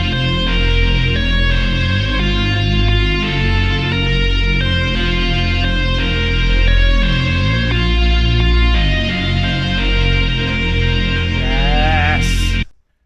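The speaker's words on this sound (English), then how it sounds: "which together with also a reese sounds like this" A distorted guitar is layered with a reese bass in a dark, dancefloor drum and bass style, with a thick rumbling low end and pulsing rhythmic chops sustained loudly before stopping suddenly.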